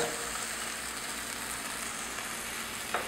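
Food fries gently in oil in a pan over low heat, a steady close sizzle with a faint stirring scrape near the end and no talk.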